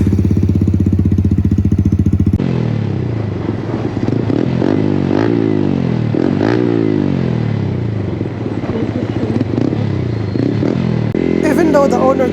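A 2024 Yamaha MT15 fitted with a full aftermarket exhaust system is ridden, its engine note rising and falling in repeated revving sweeps, loud and close throughout, with a steady idle-like drone at the start and end.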